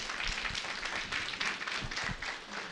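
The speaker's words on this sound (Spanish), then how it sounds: "Una vez más, fuertes aplausos, por favor." A church congregation applauds at a Sunday service, steady, dense clapping from many hands filling the room throughout at a fairly even level.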